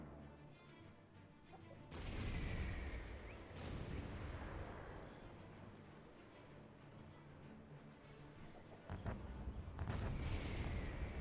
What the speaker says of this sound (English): Mortar teams, fire at will.